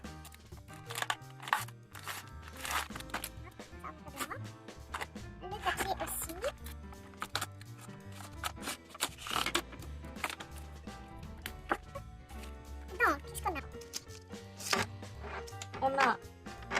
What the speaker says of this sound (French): On va ouvrir la boîte.